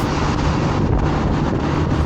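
Steady broadband wind buffeting on the microphone of a Honda ADV350 scooter rider during a night ride through a tunnel, a continuous loud rushing roar with no speech.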